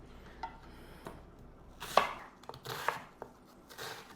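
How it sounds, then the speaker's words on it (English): Knife chopping an onion on a cutting board, several close, irregular thuds with a couple of louder clustered strikes near the middle, otherwise quiet room and no speech. "I'm going to go ahead and get my onion chopped"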